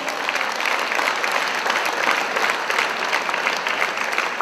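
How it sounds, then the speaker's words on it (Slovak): An audience at a 2013 fashion designer show applauds the city mayor with a sustained, lively round of clapping, many hands close together, loud and steady for several seconds. "poprosím veľký potlesk pre pána primátora"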